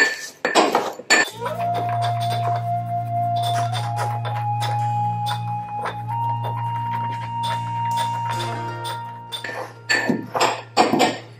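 Caraway and coriander seeds being smashed in a mortar for an ancient Roman lentil and chestnut dish, heard as clusters of sharp knocking and clinking strikes at the start and end, with a steady low hum in between.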